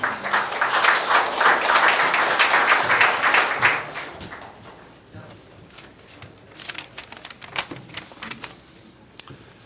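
A crowd at a political party rally applauds loudly to welcome a candidate, with dense clapping for about four seconds and then thinner, scattered claps and murmuring continuing to the end.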